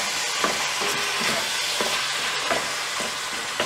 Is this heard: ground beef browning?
yes